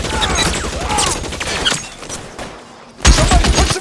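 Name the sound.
gunfire in L.A. Noire video game shootout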